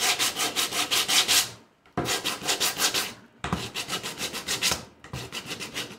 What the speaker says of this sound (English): Let's give it some sanding.